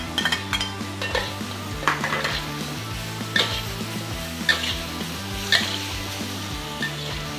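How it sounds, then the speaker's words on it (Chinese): Prawns and shallots with XO sauce stir-fry in a hot wok, giving a steady loud sizzle broken by regular clanks and scrapes of the spatula against the metal, close up with no talking. "就跟住咧咁樣去爆炒啦，爆炒佢慢慢等佢收咗啲水分"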